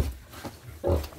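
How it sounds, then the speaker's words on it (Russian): Piglets grunting in a farm pen, a few short low snorts with a louder grunt near the end, close by and fairly faint. "и свинки."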